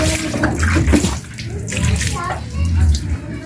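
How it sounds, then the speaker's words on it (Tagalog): Water splashes and runs over a motorcycle brake caliper from a Yamaha Mio 125i during cleaning, in uneven gushes, with someone speaking over it. "Tapos tubig guys, hugas tubig."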